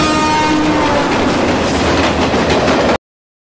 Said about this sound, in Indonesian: namun tiba-tiba ada kereta api yang melaju kencang